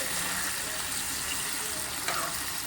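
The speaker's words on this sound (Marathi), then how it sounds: "अशी ही आपण कोळंबी टाकल्यावर तेलामध्ये थोडीशी परतून घ्यायची आहे." Prawns frying in hot oil in a pan give a steady, close hiss and sizzle with fine crackles throughout, holding an even level the whole time.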